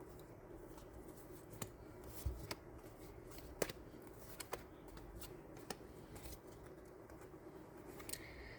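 Tarot cards are shuffled and drawn from a deck in soft, quiet sessions of papery flicks and light taps scattered irregularly across about eight seconds, close up with no voices.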